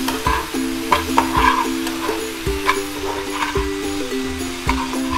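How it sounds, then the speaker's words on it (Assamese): Washed dried fermented fish (sidol) fries in oil in a pan with chilli, giving a steady close sizzle punctuated by repeated scraping stirs of a spoon at an uneven rhythm. "এইখিনি দি মই ভাজি ভাজি ৰঙচুৱা কৰিম।"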